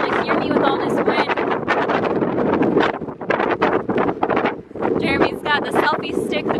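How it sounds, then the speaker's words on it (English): Strong wind buffets an outdoor microphone in a constant rumbling roar, with a person talking through the gusts. "It's really windy out here. I don't even know if the camera will be able to hear me with all this wind."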